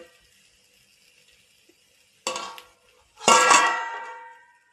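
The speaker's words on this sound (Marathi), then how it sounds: "आता हे मिक्स करून घेते मी" Cooked okra stirred in a pan, heard as two short bursts of scraping and clinking, a brief one followed by a longer, louder one, with near silence before.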